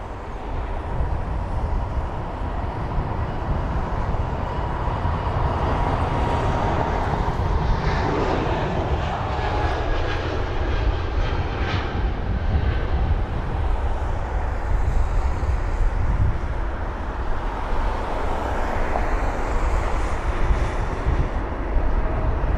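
A Swiss Airbus A220-300 takes off at London Heathrow, its engines a steady, loud broadband roar that holds for the whole stretch, with a faint rising whine layered over the rumble.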